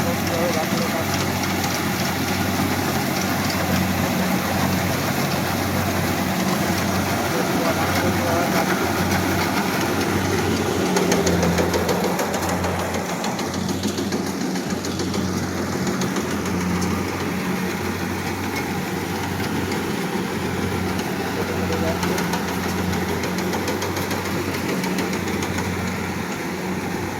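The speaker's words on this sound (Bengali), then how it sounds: "কাদায় ঢুকে যাচ্ছে মেশিন, এত প্রচণ্ড কাদা, কাদার মধ্যে কি সুন্দর ধান কাটছে" A rice harvester works through a muddy paddy field, its engine droning at a steady, loud idle-like rumble throughout, with people talking over it.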